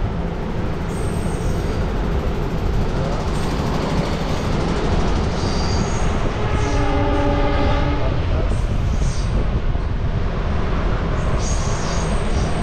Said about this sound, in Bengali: আর এই হচ্ছে আলুয়াবাড়ি রোড স্টেশন।